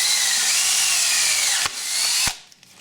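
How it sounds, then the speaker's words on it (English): A power drill bores a hole in the corner of a metal plate, a loud, steady whining grind that dips briefly, then stops abruptly, followed by quiet. "I'll start things off by drilling a hole right in the corner of this piece of metal"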